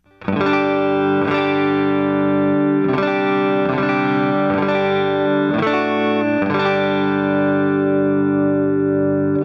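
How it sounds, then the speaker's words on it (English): Sustained electric guitar chords on the neck pickup with a light overdriven, compressed edge from a Fender ToneMaster amp, struck every second or so and ringing out clearly, with no talking. "Here is just a little bit of overdrive compression coming from the Fender ToneMaster."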